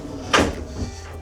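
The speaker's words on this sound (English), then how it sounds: "and a drawer." A drawer slides open inside a London Eye capsule, a short soft scraping rattle followed by a lighter bump, quiet and close.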